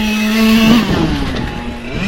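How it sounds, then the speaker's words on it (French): A Genius XR3R race car drives while warming its tyres, a steady engine drone rising slightly then holding, close and loud for about two seconds with no talk. "D'abord chauffer les pneus."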